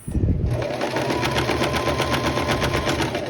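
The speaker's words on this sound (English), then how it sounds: "I'm gonna double stitch." A sewing machine runs steadily, double stitching a dress seam with a rapid, even mechanical chatter that is loud and close from start to finish.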